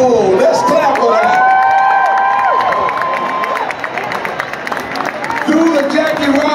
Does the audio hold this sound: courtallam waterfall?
no